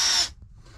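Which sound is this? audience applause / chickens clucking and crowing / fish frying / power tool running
power tool running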